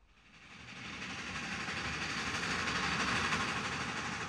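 The Whisky River Railway amusement park train in the Wisconsin countryside runs with a steady roar that builds over the first second, then holds as a broad, continuous rumble with rail noise, close and loud.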